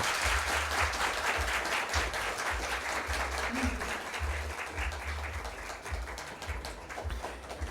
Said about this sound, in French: que je vous demande d'applaudir très chaudement